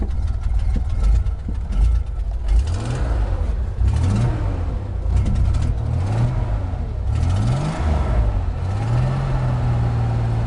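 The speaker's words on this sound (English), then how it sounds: "Nothing pretty about that 6-banger sound though." Six-cylinder engine of an old Ford Bronco II idling just after starting, a steady close rumble with a few small rev swells rising and falling, no talking.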